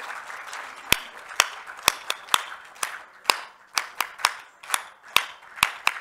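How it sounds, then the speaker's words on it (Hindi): Scattered hand claps from a festival audience at a welcome ceremony, sharp separate claps in an uneven rhythm over a quiet background with faint murmur. "जब स्वागत सम्मान हो रहा हो तो तालियां जोरदार बजा दिया करें"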